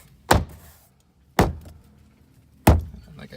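Three sharp, heavy bangs on a 2013 BMW 328i door panel as it is knocked back into place, each a hollow thud spaced about a second apart, close to the microphone.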